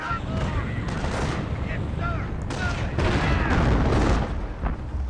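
Gunfire and explosions rumble in the Company of Heroes Mobile war game during a battle of the Scheldt skirmish, with dense, continuous booms and shots over a loud low roar while a voice speaks over the action.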